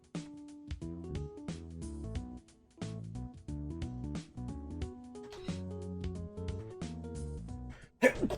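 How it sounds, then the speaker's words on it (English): A person lets out a single loud, abrupt sneeze near the end, cutting sharply over steady tonal background music during a game stream. "Sneeze took a lot of energy out of me."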